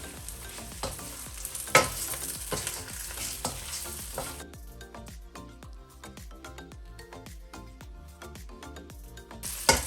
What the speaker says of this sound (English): Here we are going to fry the prawn until all of the prawn turn to red